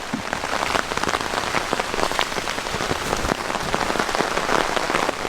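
Steady rain patters on a hammock rain fly at a campsite, a dense, even hiss of close drops with no talk throughout.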